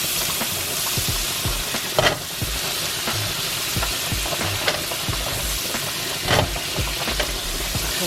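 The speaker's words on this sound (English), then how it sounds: "Get that butter melted" A whole stick of butter melting with garlic over medium heat for chicken Alfredo, a loud, constant close sizzle with repeated stirring scrapes and a couple of sharper utensil knocks, no speech.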